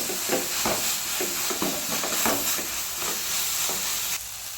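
Sizzling and stirring in a frying pan as mashed tomatoes and spices cook, with steady hiss and repeated scraping strokes close by, no talking.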